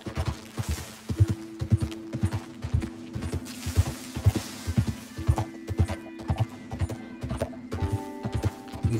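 Galloping horse hooves in Red Dead Redemption 2, a steady rapid clip-clop rhythm close up and fairly loud, with a brief whinny and game music tones underneath.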